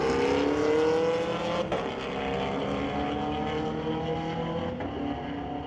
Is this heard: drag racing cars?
yes